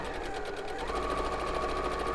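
A sewing machine runs steadily and close by while quilt seams are chain pieced, its fast needle rhythm carrying through the whole stretch.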